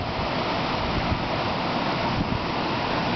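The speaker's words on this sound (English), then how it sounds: "it's kind of gotten pretty windy and the lightning's starting to pick up" Strong wind roars steadily during a thunderstorm in rural Fayette County, Illinois, a constant loud broadband rush with no breaks and no speech.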